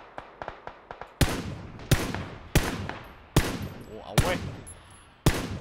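Gunfire in PUBG Battlegrounds: a quick run of faint distant shots followed by six loud, sharp reports spaced irregularly, each with a decaying echo, and a man's brief exclamation.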